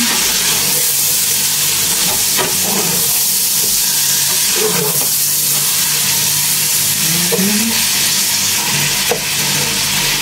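Chicken biryani with mixed Arabic-style spices being stirred in a pot: a steady, loud sizzle runs throughout, with occasional scraping sweeps of the spoon through the hot pan.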